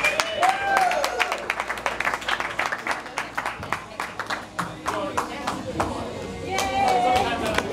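An audience claps for a stand-up comedian coming onto the stage at a comedy club, a steady stretch of scattered applause with cheers mixed in, fairly close and lively throughout.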